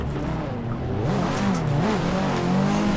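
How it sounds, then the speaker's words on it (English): A Nissan SR20-engined S13 car revs in the Assetto Corsa racing game during a drifting tandem, a loud, wavering engine note rising and falling, mixed with tire squeal. "That sounds like an SR20."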